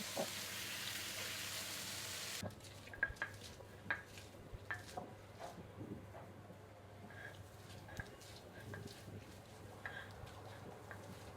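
Leafy greens sizzle in a hot pan as turmeric is added, a hiss that cuts out abruptly, followed by quieter frying crackle with scattered clinks and stirring taps.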